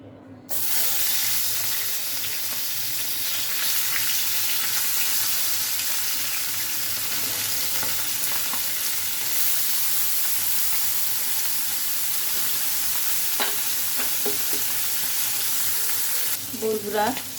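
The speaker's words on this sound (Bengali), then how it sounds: "প্রথমে আমরা মাছগুলো ভেজে নিব।" Small fish frying in a hot frying pan, a loud, continuous sizzle and crackle holding steady throughout, with a few faint clatters of handling near the end.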